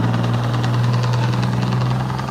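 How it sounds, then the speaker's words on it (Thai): The diesel engine of an orange-flag Chao Phraya Express passenger boat on the river in Bangkok, running as a steady, loud, close, knocking throb with no talk. "เรือด่วนเจ้าพระยา"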